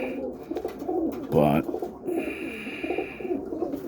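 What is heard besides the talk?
Boston ripping roller pigeons cooing in loft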